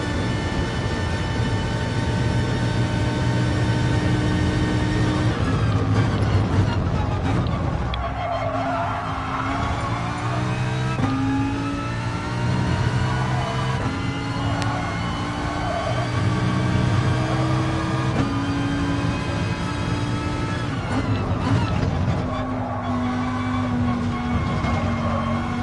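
A race car in GT Sport roars through a full lap with a steady, loud engine drone, rising and falling through gear shifts, with occasional tire squeal and a voice talking over it.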